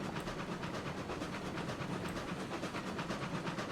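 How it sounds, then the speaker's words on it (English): A Class 70 locomotive in the game RailRoads Online labours uphill with a heavy train, giving a steady, dense rumble and hiss with a faint rhythmic clatter throughout. "the Class 70 is bogging down coming up here"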